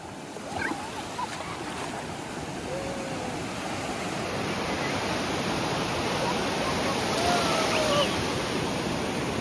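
Sea waves at Kihim beach wash in and draw back in a continuous, loud rush of surf that fills the scene, with faint voices now and then.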